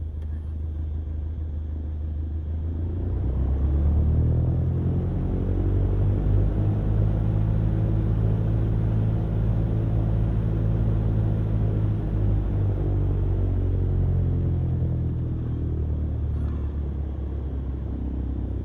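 An aircraft engine rumbles steadily while taxiing in a flight simulator game, a deep continuous drone that swells and then eases off, with no talk over it.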